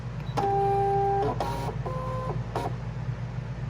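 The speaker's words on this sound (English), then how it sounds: "I'll hit my machine, and I can go ahead and load my mat" A Brother ScanNCut cutting machine loads a cutting mat: a sustained two-tone electronic beep, then a brief motor whir and a second beep, followed by a short mechanical clunk, close and without talk.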